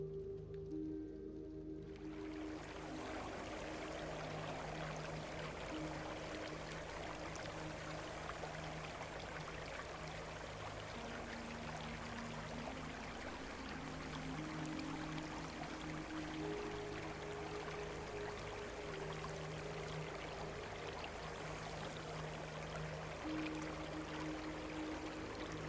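Soft, steady flowing water like a gentle stream or pour, continuous and fairly faint, layered with a low sustained drone and shifting tones, with no talking.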